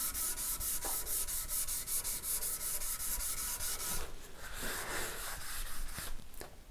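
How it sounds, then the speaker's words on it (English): Steady back-and-forth rubbing of 800-grit sandpaper on a nitrocellulose guitar finish, a rhythmic, close, fairly loud scratching that changes texture partway through, with no talking. "when you moved up to your next grit, which would be 800 in this case, you actually sand at 45 degrees"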